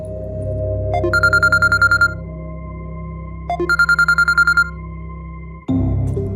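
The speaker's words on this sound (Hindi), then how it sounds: "अरे यार, इतनी रात को किसका फोन है?" A phone ringtone plays two bursts of rapid, bright repeated tones over a low hum, then stops abruptly as a new sound cuts in.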